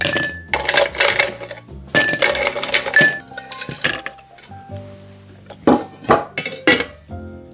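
Ice cubes clatter and clink against a glass cocktail mixing glass being chilled for a Negroni, with bright irregular knocks in clusters, a quieter pause, then more rattling clinks close up.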